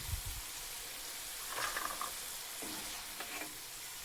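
Sweet corn kernels fry in hot oil until crisp, giving a soft, continuous sizzle with scattered sharp pops and bursts and a faint stirring rattle early on, alone without voices.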